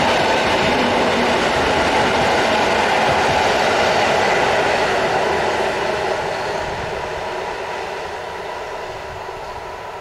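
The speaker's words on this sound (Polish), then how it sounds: "I kolejny N57, tym razem jedzie w stronę Sędziszowa." An N57 locomotive train rolls past on the LHS broad-gauge line in Poland, a steady rumble with faint wheel clatter that slowly fades as it moves away, with no talk.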